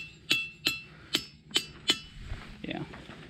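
Five sharp metallic strikes of a hammer on ringing rocks ring out with a bright, bell-like tone in a steady rhythm, followed by a brief bit of quiet talk.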